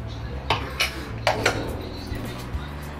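Metal clanks and clinks of a pressure cooker lid being opened on a pot of country chicken rasam, a few sharp knocks spread over a few seconds against a low steady hum in a home kitchen.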